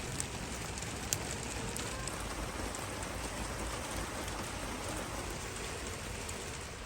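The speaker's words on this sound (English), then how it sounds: "the rain has just started to come down hard" Heavy rain pours steadily onto a vegetable garden, a dense, even hiss of drops that stays constant and close with no voices.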